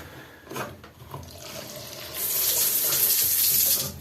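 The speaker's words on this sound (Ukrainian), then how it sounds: "Звідси виведена вода, кран і пускає воду на бак." Water gushing from a tap into the tank of an outdoor garden shower, a few clunks and splashes first, then a loud, steady rushing flow for the last couple of seconds.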